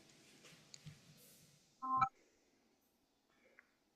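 A phone gives a short electronic beep and click as its sound is switched off, one brief tonal blip between faint taps, with a softer chirp shortly after, all in a quiet room.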